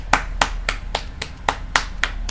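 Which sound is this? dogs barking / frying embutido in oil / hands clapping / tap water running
hands clapping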